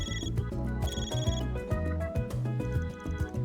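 A phone ringtone in the video game Trails Through Daybreak plays steadily as a repeating melodic tone pattern over a game music bed, loud and continuous.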